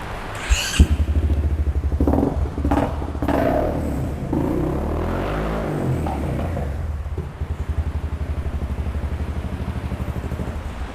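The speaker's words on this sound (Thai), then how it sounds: "ลองฟังเสียงเครื่องยนต์กันดูนะครับ" A black 2019 Honda Forza 300 scooter fitted with an aftermarket exhaust idles close by with a steady, throbbing putter, interrupted by a few short throttle blips.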